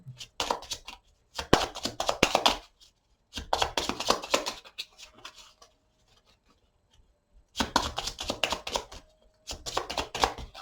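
Tarot cards being shuffled by hand in several bursts of dense riffling and slapping, with short quiet gaps between them, close and fairly clear with no talking.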